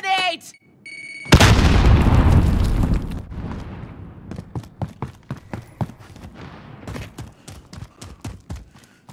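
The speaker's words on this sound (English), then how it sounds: "Throwing grenades!" Grenade blasts in the shooter game Call of Duty: Modern Warfare: a loud, close explosion bursts after brief tones, then decays into a string of sharp pops and impacts.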